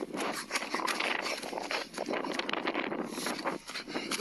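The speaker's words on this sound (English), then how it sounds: "The ghostly sound of footsteps running towards Ian came from somewhere in the darkness" Footsteps running through darkness, a rapid, continuous patter of steps over a few seconds, fairly loud and close with windy rustle and no clear talk.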